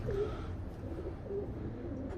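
Pigeons, including white-cheeked birds, coo steadily in a loft, two low calls standing out over a constant dull background rumble.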